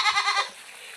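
A goat on a farm gives a single short, wavering bleat close by, and then only quiet background remains.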